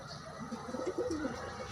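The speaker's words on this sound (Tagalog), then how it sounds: "Ayan ang kalapatids." Pigeons cooing softly nearby, a low warbling series of coos over faint background noise.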